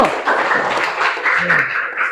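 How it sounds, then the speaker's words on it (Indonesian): Students in a junior high classroom clap for a presenting group, a short burst of hand claps mixed with a murmur of young voices, close and moderately loud throughout. "tepuk tangan untuk kelompok 1."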